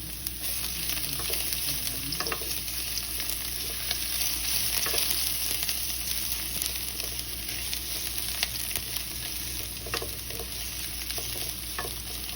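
Garlic and ginger sautéing in a pan for a chicken and cabbage stir fry, a constant even sizzle close up with light intermittent spatula scrapes, no voices.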